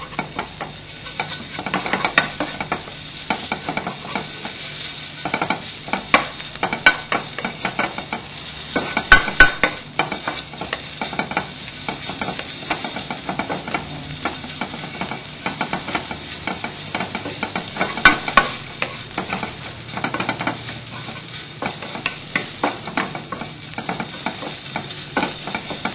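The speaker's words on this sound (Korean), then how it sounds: "다져놓은 고기를 이렇게 볶아주세요" Minced meat stir-fried in a pan as the base for a Korean sweet gochujang sauce for bibimbap, a steady loud sizzle broken by frequent scraping and stirring clacks of the utensil against the pan, with no talking.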